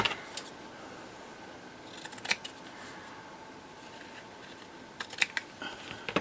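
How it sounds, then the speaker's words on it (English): Scissors trim a paper spine strengthener for a handmade envelope notebook, making a few faint, brief snips and rustles in quiet surroundings, with clusters near the start, middle and end. "Yeah, I think we can trim still a little bit more off."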